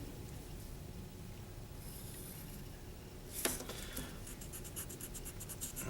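A pencil draws a straight line across paper toward a vanishing point in a linear perspective sketch of a building: faint, quiet scratching with a few light taps, close up and without talk.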